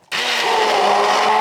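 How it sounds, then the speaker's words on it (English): A blender starts abruptly and runs loud and steady, whirring as it purees cherry tomatoes into a sauce for a vegetarian lasagna primavera, with no talking. "I'm going to whisk them with my blender first"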